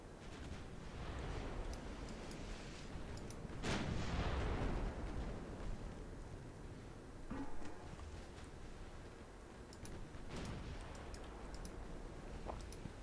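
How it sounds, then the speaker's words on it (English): Mark II 10-inch naval guns fire in the naval battle game Ultimate Admiral Dreadnoughts, with a few heavy, distant booms spaced several seconds apart over a low rumbling background and faint clicks. "The Allsprings are scoring some good hits with their Mark II 10-inch guns."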